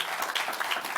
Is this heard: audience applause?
yes